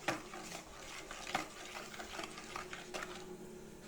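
A spoon scrapes and swirls through a rust-removal mixture of baking soda in a bowl, quiet, irregular stirring strokes close by with no talking.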